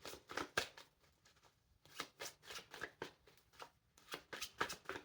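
A deck of oracle cards with a cardstock feel being shuffled by hand: a run of crisp riffling bursts in a steady, repeating rhythm, soft and close, with no voice.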